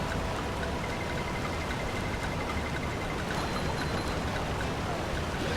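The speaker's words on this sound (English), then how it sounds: "With the whole raging waterfall thing." Raging waterfall in the SpongeBob SquarePants: Battle for Bikini Bottom video game, a constant dense rushing roar of water with no pauses, steady and moderately loud throughout.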